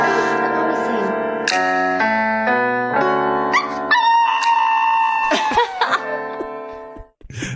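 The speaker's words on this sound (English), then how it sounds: "All right, you want to hear a dog singing karaoke, Pony?" A dog howls and croons along to loud karaoke music, its wavering voice sliding between pitches before the music cuts off.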